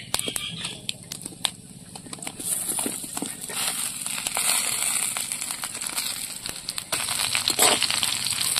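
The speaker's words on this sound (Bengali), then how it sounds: "এবার বড়াগুলো আমি দিয়ে দেবো তেলের মধ্যে" Fritters (boras) go into hot oil in a village-style kitchen, giving a dense crackling sizzle with rapid pops and spits that builds and keeps going steadily throughout.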